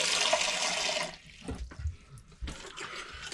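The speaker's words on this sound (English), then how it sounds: "And now to add the water." Water pours steadily from a tap into a bowl of samosa dough mixture for about a second, then stops; several short splashes and trickles follow as the flour and water are worked together.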